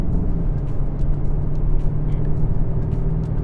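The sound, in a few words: 2025 Kia K5 GT car driving in sport mode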